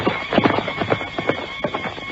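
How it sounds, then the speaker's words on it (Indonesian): Horse hooves clip-clop in a quick, close rhythm as a rider departs in an audio drama, with a whinny mixed in over a short, busy stretch. "orang kepercayaan Ramapati itu pun melambaikan tangan sebelum berkuda menjauh"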